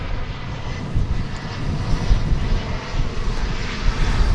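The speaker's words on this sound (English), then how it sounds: "We have a plane coming in here." An American Airlines Airbus A319 arriving at DFW Airport, heard as a steady, loud, broadband engine roar with deep rumble that holds throughout with slight swells, with no talk over it.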